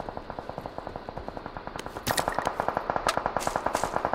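Rapid, steady bursts of automatic gunfire rattle continuously, growing louder and denser halfway through, with a few sharper shots layered on top.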